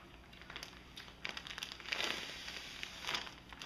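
Quiet crinkling and rustling of a plastic fish-shipping bag, with a few sharp scissor snips and crackles in irregular bursts, close by.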